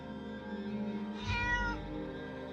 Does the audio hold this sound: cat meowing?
yes